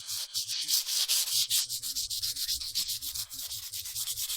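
Filler primer on a 1950s wooden sailboat hull being hand-sanded in rapid, even back-and-forth strokes, a close, loud rhythmic scratchy rasp with no talking.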